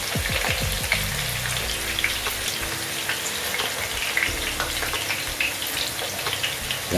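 Chicken wings fry in hot oil with a steady, close crackling sizzle and scattered pops that run without a break, and no voices are heard.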